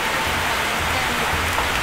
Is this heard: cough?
no